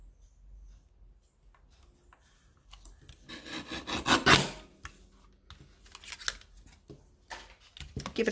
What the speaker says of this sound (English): So I'm going to bring out my trimmer, my little mini trimmer here